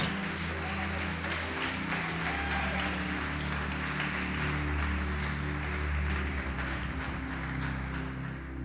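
A church congregation applauds steadily for several seconds, the broad clapping wash blended with sustained low instrumental tones playing underneath throughout.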